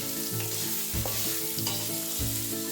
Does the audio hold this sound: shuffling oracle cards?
no